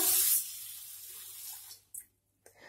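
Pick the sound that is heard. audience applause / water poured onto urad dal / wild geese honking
water poured onto urad dal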